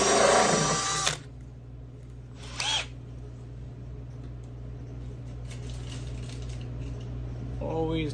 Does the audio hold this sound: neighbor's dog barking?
no